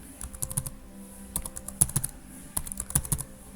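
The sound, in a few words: typing an IP address on a computer keyboard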